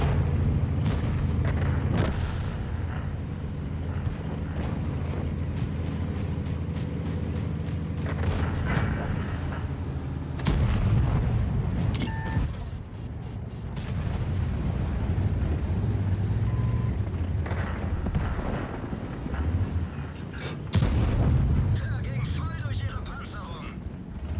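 Heavy booming gunfire from the E 75 TS, a German tank in a battlefield video game, with several loud blasts amid continuous engine rumble and someone talking over most of it.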